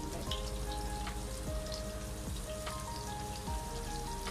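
Onions browning in a pot of boiled-meat stock for beef pulao give off a steady, dense sizzle that runs unbroken throughout, with faint tonal hum and clinks behind it.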